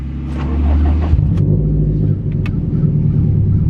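A 2017 Subaru STI cruising on Ohio country back roads, its engine giving a loud, steady low rumble with road noise, the engine note shifting slightly partway through.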